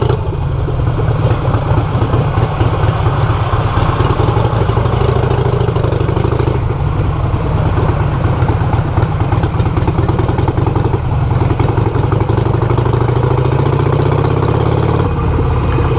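A Ducati Panigale idles close by in traffic amid lane-splitting riders, a steady low engine rumble with faint mechanical clatter that holds throughout without any talk.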